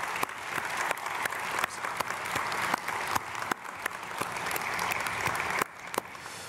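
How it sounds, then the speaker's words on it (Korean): A church congregation applauds during a Sunday worship service, sustained and steady clapping from a large crowd with a few sharper claps standing out, easing slightly near the end. "모든 수고하신 주님의 귀한 종들에게 박수로 크게 축복하겠습니다."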